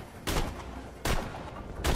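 Rifle fire in the video game Borderlands The Pre-Sequel: three sharp, separate single shots spaced roughly a second apart, loud over a steady low background hum.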